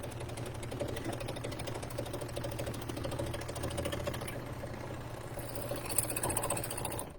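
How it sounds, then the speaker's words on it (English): A bernette b64 Airlock overlocker stitching a flatlock seam with its knife engaged, giving a steady, continuous mechanical whir and rapid needle rattle that runs loud and unbroken throughout, with no talking. "I've got the knife engaged and I'm just gonna sew this flat lock"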